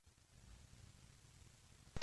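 A short electronic beep marking the moment to start speaking in a TOEFL practice test, arriving abruptly at the very end after near-total silence, clear and fairly loud.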